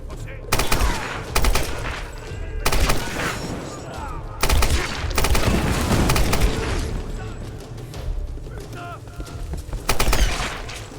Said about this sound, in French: Ouais, la mitrailleuse, ouais.